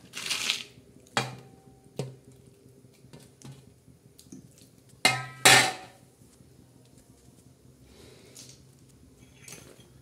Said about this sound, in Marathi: हे बघा, कढाईमध्ये चिकन आपण कसं टाकत आहोत।